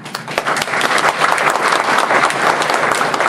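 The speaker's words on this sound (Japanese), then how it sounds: "どうぞ今一度大きな拍手をお願いいたします" Sustained applause from an audience at the close of a lecture on a preserved historic district in Inariyama, Chikuma, with dense steady clapping filling the room and no speech.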